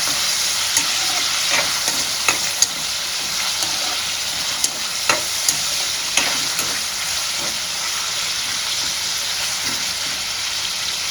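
Mutton pieces frying in oil while being stirred in a pan, with a steady close sizzle throughout and intermittent scraping taps of the spoon. No voices over the cooking.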